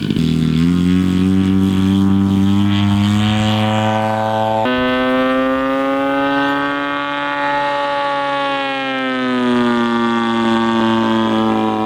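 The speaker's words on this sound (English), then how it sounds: "you just press the button, the motors start to spin, and it's doing all this on its own" Motors of a Syma X22W FPV camera drone spinning in flight give a loud, continuous high-pitched whine that sweeps up sharply after a few seconds, then dips and rises again as the speed changes.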